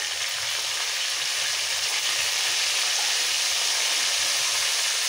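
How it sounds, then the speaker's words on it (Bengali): Ginger and crushed green chillies fry in hot oil, giving a loud, continuous close-up sizzle with no pauses. "একটু তেলের মধ্যে একটু ভেজে নেবো যাতে আদার গন্ধটা, কাঁচা গন্ধটা বেরিয়ে যায়"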